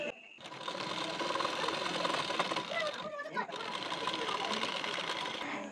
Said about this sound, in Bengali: পট্টির কানা বরাবর করে একটি চাপ সেলাই দিয়ে নেবেন